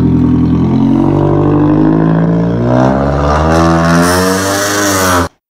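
Scion tC engine rising slowly at around 2000 RPM while the car barely rolls, a loud, continuous, rough drone climbing steadily in pitch until it cuts off abruptly.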